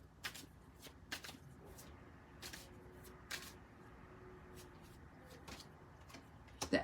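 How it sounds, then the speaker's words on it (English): Tarot cards are shuffled and slid from a deck close by, soft sharp flicks and riffles arriving in scattered bursts amid quiet room tone, with a few louder snaps near the end. "Let's pull some more cards."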